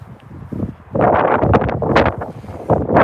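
Strong gusts of 40 mph wind at Newcastle Airport buffet a phone microphone, loud rumbling blasts that swell and drop irregularly, close and unbroken by talk.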